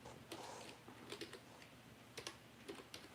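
Quiet typing on a computer keyboard during a test of a server machine, with irregular clusters of soft key clicks spread across the stretch and no voices.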